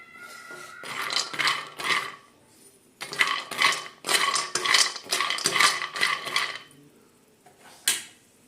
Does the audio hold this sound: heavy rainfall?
no